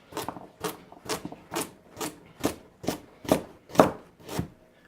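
Ten evenly spaced chef knife chops on a cutting board, crisp and close, in a steady rhythm with no talking.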